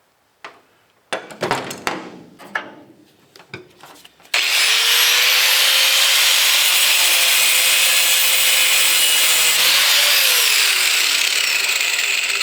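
A 10,000 RPM cutoff wheel slices through old bolts on the bed of a 1966 Chevrolet C-10 long bed truck. A few brief taps and rattles come first, then a loud, steady, high-pitched grinding whine runs unbroken for about eight seconds, with its pitch dipping slightly near the end.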